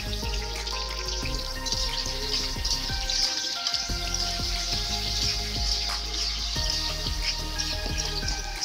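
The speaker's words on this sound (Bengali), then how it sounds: "ওল রসুন সুই ঝাল একসাথে ভেজে ফেলি।" Elephant foot yam frying in hot oil together with garlic and green chili, a steady dense crackling sizzle with scattered pops throughout, close and continuous with no talking.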